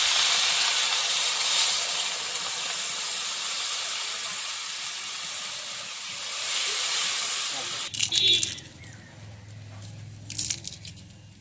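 Water poured into a hot pan of small-fish curry with turmeric hisses loudly and steadily for several seconds, then settles into a quieter simmer broken by a few sharp clatters.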